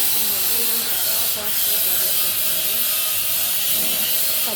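A single dried red chili sizzles in hot oil, giving a steady, close broadband hiss that holds evenly throughout with no clear pauses.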